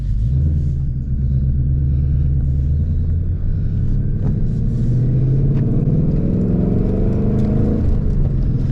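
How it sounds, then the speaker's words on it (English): A 2024 Ford Mustang GT's V8 engine drives past close and loud, a deep rumbling drone that rises steadily in pitch as it accelerates, with tyre and road noise underneath and no speech. "let's enjoy some V8"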